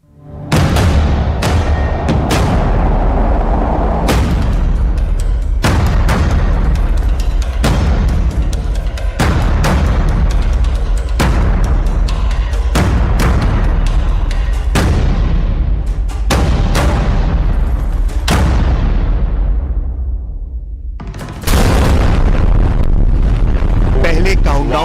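A supersonic submarine-killer missile launching after a countdown gives off a loud, sustained roaring rumble, broken by repeated sharp booming bursts, overwhelming and continuous over a long stretch.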